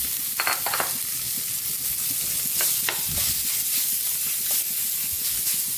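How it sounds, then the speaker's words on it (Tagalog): Ground pork and chopped onion sauté in a hot pan for a Filipino ginisang mais dish, giving a steady close sizzle with scraping stir strokes and a few sharp spatula clinks, no talk. "Isunod na rin natin yung ating pork, giniling."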